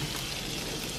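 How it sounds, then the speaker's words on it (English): Bacon sizzles in a frying pan with a dense, steady crackle heard up close throughout, no voices over it. "Can you guys see the bacon sizzle?"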